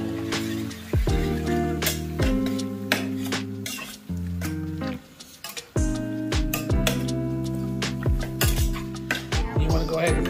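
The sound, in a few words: mixing soy sauce and tomato sauce in a pan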